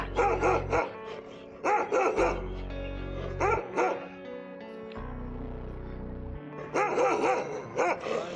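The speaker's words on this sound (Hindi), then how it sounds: "आप डरे मत, मैं भगा देता हूँ कुत्ते को।" A dog barks repeatedly in loud, close bursts of several barks each, separated by short gaps over a constant background hum, with no voices over it.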